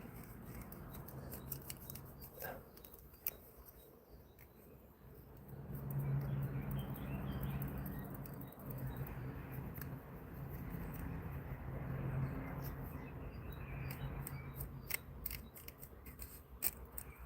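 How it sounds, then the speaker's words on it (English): Scissors or shears snip repeatedly at a plastic plant pot to free a cactus root ball, with quiet scattered cuts and crinkling close by over a low background hum. "I need to cut it out of the pot."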